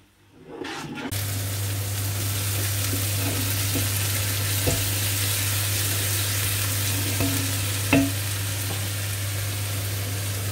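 Chicken curry ingredients fry steadily in a pan with a continuous loud sizzle, a low hum running underneath, and a couple of brief clinks near the middle and end.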